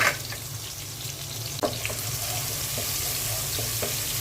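Onions frying in oil with whole cumin in a frying pan for a chicken curry, a steady low sizzle running throughout with a sharp clatter midway, no talk.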